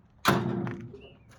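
Compartment doors swinging open on a LiuGong 922F excavator, a single solid metallic thunk with a brief rattle and ringing decay, close and fairly loud, with no voices.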